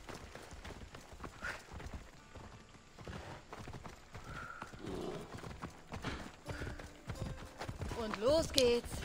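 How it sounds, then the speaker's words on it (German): Hooves clip-clop in a steady rhythm in the video game Assassin's Creed Odyssey, ending with a short neigh near the end, while someone talks over it. "Das Pferd braucht wieder Stunden, bis es da ist."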